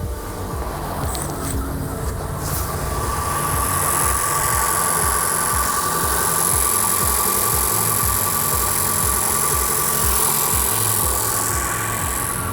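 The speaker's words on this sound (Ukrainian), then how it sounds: "Ну, двигун запустився." A car engine idles steadily after being jump-started with a Profiline BM300 booster and no battery, a close, even, continuous running drone with a faint high whine, no talk.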